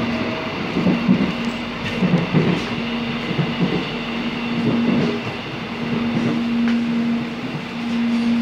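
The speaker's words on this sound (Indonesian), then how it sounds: "ini kira-kira sedikit perjalanan di kereta" Inside a moving airport rail link train from Soekarno-Hatta to Sudirman station, at the rear of the train: a continuous rumbling ride with a steady tonal hum, rattling, and occasional clunks from the carriage.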